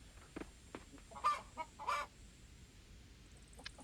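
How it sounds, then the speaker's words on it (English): Chickens cluck in a farm scene of the video game Coral Island, a few short bursts and a couple of louder clucks over a quiet ambient background. "And ducks and chickens."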